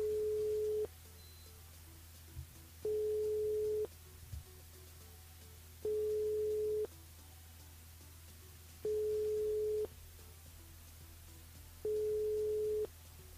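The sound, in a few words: telephone busy signal on a radio call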